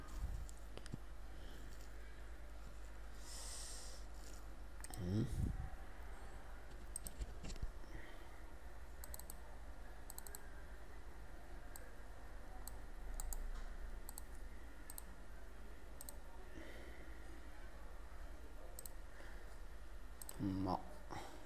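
Sharp computer mouse clicks, a few scattered single presses at wide, irregular gaps, close and fairly soft over a steady low hum, while activating software on a PC.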